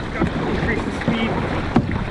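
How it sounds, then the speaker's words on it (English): A small boat under motor power while someone also paddles makes a steady, windy hum and water wash, broken by a few soft knocks and splashes from the paddle, outdoors on San Francisco Bay. "I get an extra mile per hour with the extra paddling."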